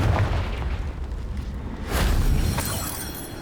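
Explosive blasting spells in the Hogwarts Legacy video game, two loud rumbling booms in close succession, full and dense with a crackling tail.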